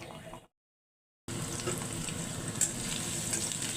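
Jute leaves frying in a pan, a steady close sizzle and crackle that cuts out briefly near the start, then resumes and continues evenly.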